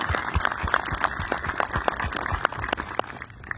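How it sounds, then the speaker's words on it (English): An audience claps for graduates at a certificate ceremony, sharp individual claps from a modest group, fairly close and uneven in rhythm throughout. "Let's give them a round of applause."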